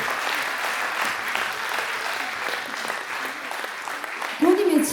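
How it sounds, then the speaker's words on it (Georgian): A concert hall audience gives thunderous applause, a dense continuous wash of clapping that holds steady throughout, with a voice briefly rising over it near the end. "მადლობა და კიდევ ერთხელ მქუხარი აპლოდისმენტები ჩვენი საღამოს ყველა მონაწილეს"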